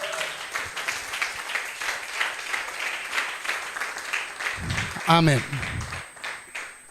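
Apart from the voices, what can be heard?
church congregation applause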